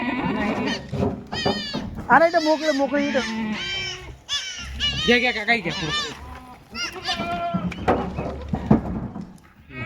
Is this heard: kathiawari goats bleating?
yes